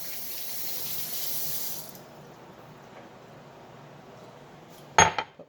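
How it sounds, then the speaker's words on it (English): A cutting board is rinsed under a running kitchen tap: water splashes steadily for about two seconds, then stops, followed by a quieter lull and a sharp clatter as the board is set down. "rinse that off."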